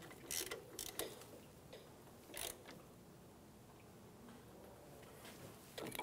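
A ratchet tightens a brake line union bolt with crush washers on the front brake hose of a 2007-2017 Ford Expedition, giving short, close bursts of clicking separated by quiet pauses.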